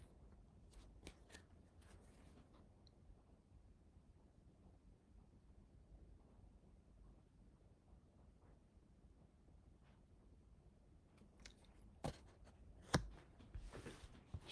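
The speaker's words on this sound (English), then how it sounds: "Shuffling again." A deck of cards being shuffled by hand, a faint, soft rustle and riffle that runs throughout, with a few sharper flicks and snaps near the end, quiet and alone.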